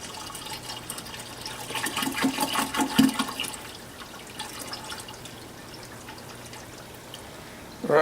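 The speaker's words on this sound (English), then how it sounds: "just pour the water back in" Water is poured back into a Fluval Edge aquarium, a close, steady splashing trickle that swells for a few seconds, then fades to a quiet hum and faint drips.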